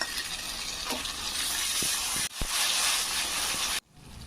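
Meat masala with dry red chilli, bay leaf and onion fries loudly in oil, a dense sustained sizzle with a couple of spoon knocks, cutting off abruptly near the end.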